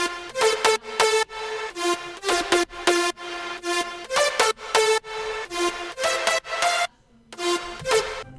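Lead synth part of a layered electronic music track, a bright, harmonically rich melody of short rhythmic stabbed notes with a few brief gaps, playing alone and moderately loud.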